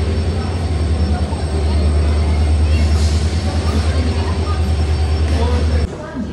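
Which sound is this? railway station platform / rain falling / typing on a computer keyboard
railway station platform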